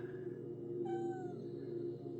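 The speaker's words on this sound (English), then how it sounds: "You can hear my cat meowing." A house cat lets out a single drawn-out meow near the middle of a short stretch, over a steady low room hum from a running older desktop computer.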